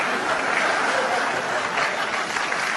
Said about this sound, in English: No, don't applaud that.